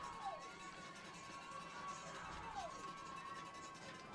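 A high school football crowd at a KHSAA 6A semifinal between Bullitt East and Bryan Station cheers at kickoff, a steady, distant roar with scattered shouts and whoops that rises and dips slightly throughout.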